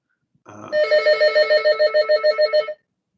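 A telephone rings loudly and close by, a fast electronic trill pulsing about a dozen times in an even rhythm before cutting off into silence.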